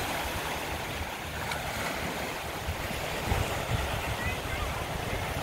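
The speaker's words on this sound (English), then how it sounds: "It's like sea waves." Wind-driven waves on a lake in Vermont, a broad steady wash of surf with heavy wind rumble buffeting the microphone, continuous and fairly close with no clear breaks.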